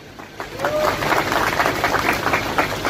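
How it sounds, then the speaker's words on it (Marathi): Audience applause at a political speech in Maharashtra, a dense, continuous clapping that swells after a soft start and holds steady at a moderate level throughout. "टाळ्या वाजवत असताना"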